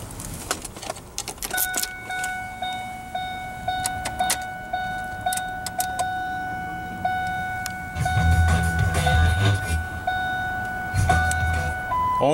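A 2001 Ford F-150 SuperCrew with a 4.6 L V8 is started from inside the cab: keys jingle and a dashboard chime rings steadily, then a low cranking rumble comes in near the end as the engine catches.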